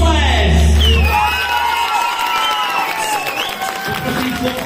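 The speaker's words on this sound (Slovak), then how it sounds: "A teraz si to zaslúži potlesk" Crowd at the Miss Roma L&Y 2025 pageant clapping, cheering and whooping loudly, with high shouts and children's voices over the applause, fairly close and sustained.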